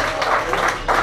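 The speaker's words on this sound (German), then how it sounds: "einen grossen Applaus" An audience applauds at a restaurant event, a dense, steady patter of clapping hands filling the whole brief moment, close and fairly loud.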